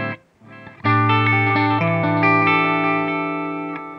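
Electric guitar played through an Aalberg Audio Ekko+Areo wireless digital delay pedal with feedback raised, a sustained chord ringing out loud and smearing into layered repeats that build and linger for several seconds with no talk.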